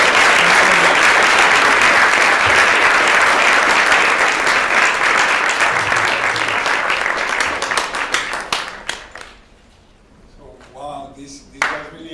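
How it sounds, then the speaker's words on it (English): Applause for a VIP guest at a university global leadership award event, loud dense clapping from an audience that thins into a few last claps, then a voice speaks. "let's please give our VIP guest a round of applause"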